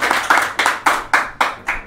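Applause on a live show, heard as about seven loud, close hand claps in an even rhythm, each with a short ringing tail.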